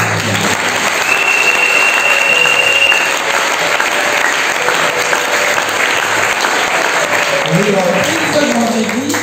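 A church congregation at a French-language testimony service bursts into sustained, dense applause that fills the room for the whole stretch, with a few voices calling out beneath the clapping.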